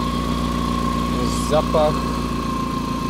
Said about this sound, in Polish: ale też silnik troszeczkę przydusiło